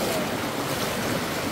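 Strong stream of water rushing on a canyon hike in Eaton Canyon, a continuous loud broadband roar with wind buffeting the microphone, no pauses over the short stretch.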